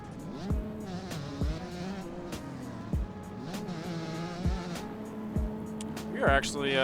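Dirt bike engine in a motocross racing video game, a continuous buzzing whine that revs up and down with repeated gear shifts, under steady commentary from a player.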